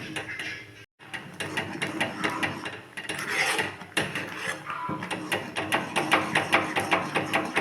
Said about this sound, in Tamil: இது நல்லா ஹல்வா பதத்துக்கு வரணும் அது வரைக்கும் நம்ம கிண்டிகிட்டே இருக்கணும்